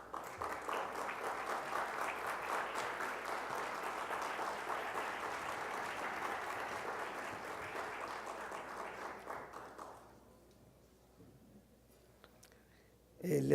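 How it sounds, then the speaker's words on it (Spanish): A room of attendees at a formal session claps steadily for about ten seconds at moderate distance, then the applause fades out into near silence. "les pido un gran aplauso al doctor José Ignacio Madrigal Sepúlveda"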